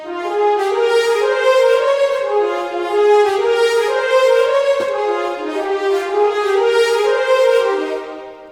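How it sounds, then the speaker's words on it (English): Orchestral brass carrying the main melody of a Final Fantasy VII battle theme, alternating accented marcato notes with short detached staccato ones in a steady, loud, continuous line with no voices. "The brass is doing the main melody"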